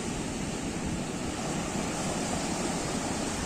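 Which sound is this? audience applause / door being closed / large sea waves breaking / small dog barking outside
large sea waves breaking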